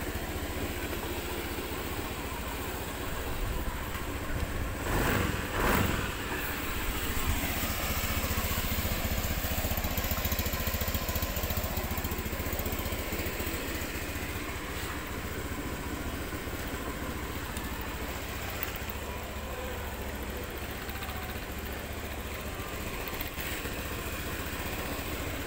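A 2018 Honda Beat scooter engine idles steadily throughout, a continuous mid-pitched putter with a brief louder rev partway through, fairly close.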